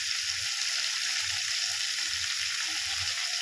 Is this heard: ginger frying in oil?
yes